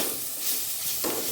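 Ground spices with coriander powder fry in a pan for a rui fish curry, giving a soft, close sizzle and scraping stir that rises briefly near the end, without speech.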